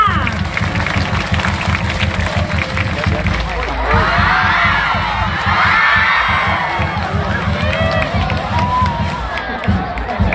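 A dense crowd cheers, shouts and claps steadily and loudly throughout at an acrobatic performance during a Chinese shrine celebration festival in Khon Kaen, Thailand, with voices mixed into the din.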